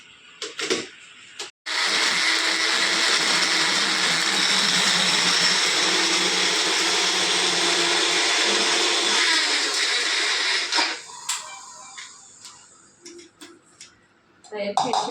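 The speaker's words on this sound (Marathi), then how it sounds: "आता हे मिक्सरमधून मी वाटून घेते, सगळं बारीक पेस्ट करून घ्यायची याची" A mixer grinder whirs loudly and steadily for about nine seconds grinding chili into a fine paste, then stops, leaving quieter kitchen clatter.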